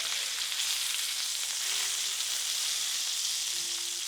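Steak in a pan of butter sizzles steadily as it is lifted out, a close, even frying hiss held at constant loudness throughout with no talk.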